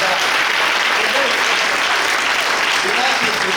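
A church congregation applauding the Lord, dense steady clapping filling the whole moment, loud and close with no pauses.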